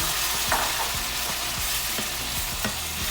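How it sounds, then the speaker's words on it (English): Cold tomatoes hit a hot, high-heat pan of turkey meatballs, setting off a steady loud sizzle with a few stirring clicks, no voices. "we're gonna drop in our tomatoes, and that's going to bring the temperature down"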